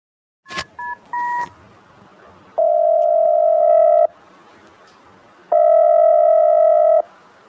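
A phone call being placed: a few quick keypad dialing beeps, then two long, loud ringback tones separated by a pause, clean and close with no talking.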